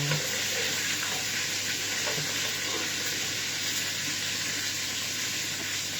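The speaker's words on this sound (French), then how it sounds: "je vais jeter mes oignons dedans. Je fais revenir mes oignons avec un peu de..." Onions frying in a pan give a steady, dense sizzle that holds at an even level throughout, with no voices.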